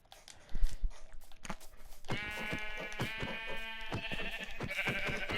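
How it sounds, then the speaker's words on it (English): Sheep bleating in the video game Minecraft, a few short nasal bleats among game sounds, followed by steady layered tonal game noise, moderately loud. "Sheep."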